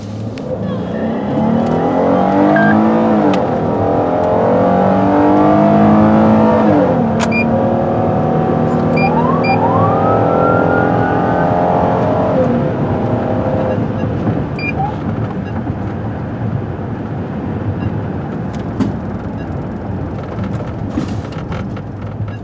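A police cruiser in Sunapee, New Hampshire turns around to pursue a speeding vehicle, its engine loud and close with a rising rev, then settling into a steady drone of road and wind noise.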